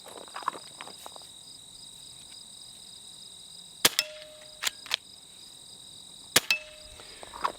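A Hatsan Jet 2 air rifle fires at a 25-yard target: two sharp, fairly close shots, each followed by a quick metallic report, over a steady bed of outdoor insect and cricket chirping, with no talking.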